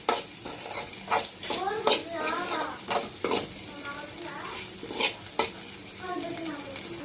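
Egg curry is stirred in a frying pan with a soft continuous sizzle, a spoon scraping and tapping the pan in irregular strokes, and faint voices briefly in the background.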